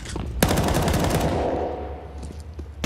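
Automatic rifles fire in a Counter-Strike esports match, a sharp loud shot followed by a sustained rapid burst of gunfire that gradually thins out, with scattered further shots near the end.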